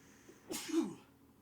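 A single short, quiet sneeze, with a sharp burst of air followed by a brief voiced tail.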